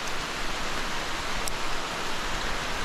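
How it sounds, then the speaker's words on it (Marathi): Steady monsoon rain pours over a Konkan village of rice fields as an unbroken, even hiss of dense falling water at constant loudness, with no voices or other distinct sounds. "सतत पाऊस कोसळतो आहे"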